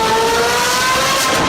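A Lamborghini Aventador V12 with a titanium exhaust revs loudly and steadily at high pitch, its engine note rising slightly as it holds a sustained, close roar with no talk.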